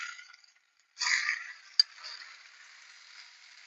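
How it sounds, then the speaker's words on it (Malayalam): Chicken frying in a pan, a soft hiss that rises suddenly after a quiet moment and then settles into a faint steady sizzle, marked by one sharp clink. "ചിക്കനൊന്ന് പൊരിച്ചെടുക്കാം."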